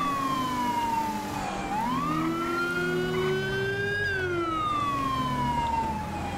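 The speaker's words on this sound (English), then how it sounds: "We're going to go ahead and initiate our siren." Police car siren in GTA V, a single loud wailing tone that sweeps down, rises and slowly falls again, with steady engine and road noise underneath.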